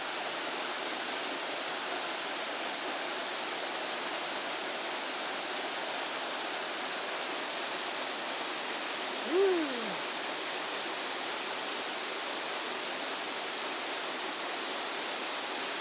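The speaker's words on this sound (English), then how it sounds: "Waterfall in Taiwan." A mountain waterfall in Taiwan roars as a dense, unbroken wash of falling water, loud and close for the whole stretch, with one brief tonal call rising and falling near the middle.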